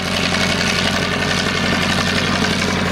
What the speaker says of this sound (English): the Argos 240 horsepower engine up front, enable the plane to fly very slowly like that.